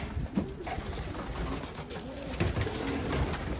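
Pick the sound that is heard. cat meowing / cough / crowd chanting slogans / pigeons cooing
pigeons cooing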